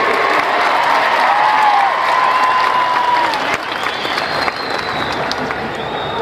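A large crowd claps loudly and continuously during a political speech by Narendra Modi in Solapur, with a few whistles rising above the dense applause.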